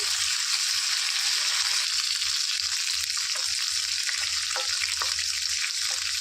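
Steady, loud sizzling of curry leaves frying in hot oil for carrot chutney, a dense hiss running throughout with occasional crackles and soft stirring scrapes.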